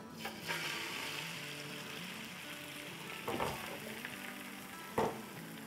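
Beaten egg spread thin in a flat pan, frying with a soft steady sizzle and a few sharper clinks and scrapes of a utensil against the pan, quiet and close.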